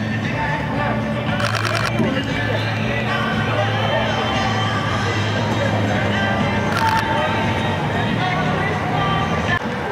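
A Sony a7R III camera fires its shutter in two quick bursts of rapid clicks, close to the microphone, over a constant background of crowd hubbub and distant voices.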